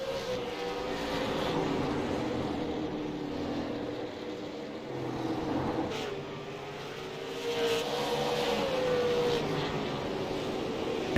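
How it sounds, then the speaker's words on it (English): Super Late Model stock cars race at night at Langley Speedway, their engines droning and rising and falling in pitch as the pack circles. The sound is steady and moderately distant. "Man, these cars sound good out there tonight, though."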